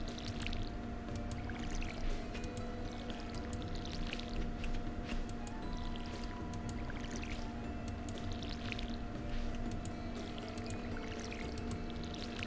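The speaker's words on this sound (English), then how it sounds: "Get him with the water bottle." A watering can pouring water onto a cat in the farming video game Stardew Valley makes a soft, continuous watery pour, steady and faint, over a low humming backdrop.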